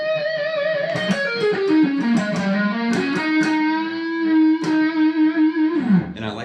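Distorted electric guitar lick in a rock-metal style, a run drifting down a mixolydian pentatonic and ending on a string bend that slides and sustains, played loud and alone with no talking.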